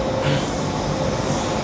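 Steady, loud rumbling hum of a moving Budapest to Vienna train from inside a carriage, broadband and continuous, with a faint tonal whine running through it.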